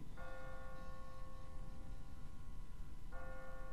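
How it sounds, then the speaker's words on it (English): In The Walking Dead video game, a church bell in a tower tolls twice, about three seconds apart, each stroke ringing out and sustaining at moderate volume over a low background hum. "What kind of church bell goes off at 20 past the hour?"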